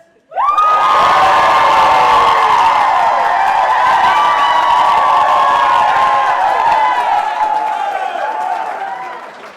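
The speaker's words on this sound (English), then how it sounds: "Team Josie, remember to shout and cheer as loudly as you can" Wedding guests at a ceremony shouting and cheering loudly as a man drinks, a sustained, close roar of many voices with high whoops that holds for nearly ten seconds before easing slightly.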